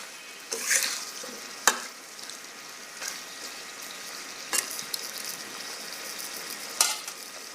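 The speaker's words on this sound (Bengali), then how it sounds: "এটা দিয়ে আলুটা দিয়ে আমি ভালো করে একটু নেড়ে নিব।" Potatoes are stirred with broiler chicken wings in a sizzling pan: a soft, continuous fry hiss broken by several sharp spoon scrapes and clinks against the pan at irregular intervals, close by and without talking.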